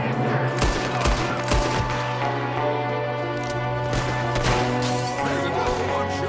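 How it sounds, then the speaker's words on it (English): Rapid bursts of gunfire from a Red Dead Redemption 2 shootout, with repeated cracks and volleys over a continuous droning background score, sustained and fairly loud throughout. "there's another one shooting from the window"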